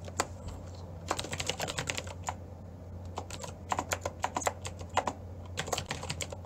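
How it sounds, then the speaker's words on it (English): Keys on a computer keyboard are typed as a note is written down: quick, irregular clicks in short bursts, fairly close and moderately quiet over a steady low hum. "Actually, I need to write it down for you guys"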